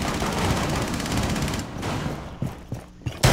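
Dense, continuous gunfire from Rainbow Six Siege on the Kafe Dostoyevsky map, loud and rapid for over a second and a half, then thinning into a few scattered, sharp shots.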